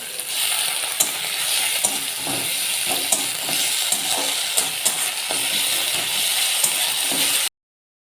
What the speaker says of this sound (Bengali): পেঁয়াজটা খুব ভালোভাবে ভাজা হয়ে গেছে, এরপর আমি রসুনটা দিয়ে দেবো। এরপর আদা আর জিরে বাটাটা দিয়ে দেবো।